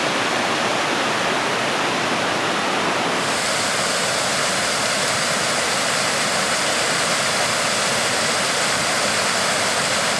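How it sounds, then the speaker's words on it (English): East Gill Force, a series of little waterfalls on the Pennine Way near Keld, gives off a steady, even rush of falling water. The sound is continuous and fairly close, with no voices. "East Gill Force, just a series of little waterfalls"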